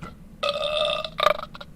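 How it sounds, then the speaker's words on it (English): Recorded burp sound effect played from a novelty sound machine, one long, loud, buzzing belch followed by a shorter gurgling tail, heard alone without talk. "It's a burp."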